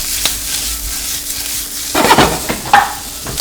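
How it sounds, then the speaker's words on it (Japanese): Bacon and onions stir-fry in olive oil in a frying pan, a steady sizzle that grows louder midway as the spatula scrapes and tosses them, with no talking. "玉ねぎもねしっかり炒めていきましょう。"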